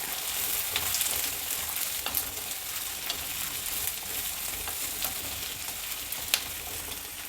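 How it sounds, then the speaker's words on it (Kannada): Green chillies and curry leaves sizzle in a pan over high flame as a constant, moderately loud frying hiss, with a few sharp crackles and pops. No voices are heard. "ಕರಿಬೇವಿನ ಸೊಪ್ಪು ಚೆನ್ನಾಗಿ ಫ್ರೈ ಮಾಡ್ಕೊಳ್ಬೇಕು"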